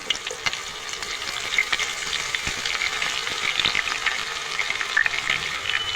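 Onions frying in hot oil in a pan for chicken biryani, a close, steady sizzle with crackling pops and occasional stirring scrapes, no voices.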